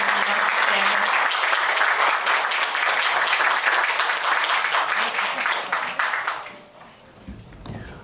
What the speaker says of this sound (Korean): 오늘 김주영 선생님 나오실 때 여러분들 뜨거운 박수 부탁드릴게요